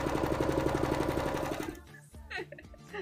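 A sewing machine stitches hoop skirt layers in a fast, steady, close run for about a second and a half, then stops, leaving faint handling noises and a few murmured voices.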